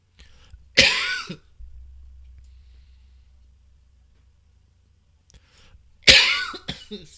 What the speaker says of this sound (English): Sorry, I've got really bad cough. I've been coughing all night.